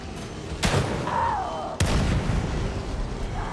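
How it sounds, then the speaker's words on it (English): A barrel explodes in The Evil Within 2 video game. A sharp blast is followed by a second loud boom and a rumbling tail, close and heavy against ongoing game noise. "have that barrel explode on her"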